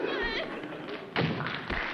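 A door slams with a solid thud in a TV episode, one sharp hit set among voices talking.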